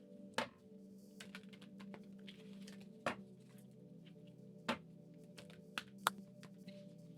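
A large, stiff deck of cards is riffled and tapped in a quiet room, with a soft continuous rustle broken by several sharp slaps and clicks.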